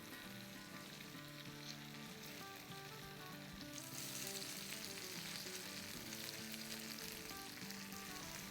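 Bihari kabab boti pieces sizzle steadily in a pan after being turned over, a dense continuous frying hiss that grows slightly louder and brighter partway through, with no voices.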